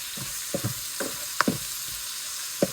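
Green chili, ginger and garlic sauté gently in a pan, a faint low hiss beneath a handful of soft, scattered taps and scrapes from stirring.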